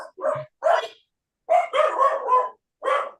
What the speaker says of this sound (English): That's my 3 dogs.